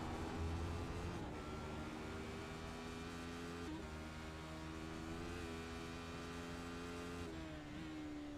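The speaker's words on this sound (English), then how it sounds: "You can hear just a little bit of tire noise as those tires are just scrubbing for all the cornering ability" Race car in the iRacing sim game, engine note humming with shifting harmonic tones as the car corners, faint tire scrub underneath, steady and moderately quiet with brief pitch drops as the revs change.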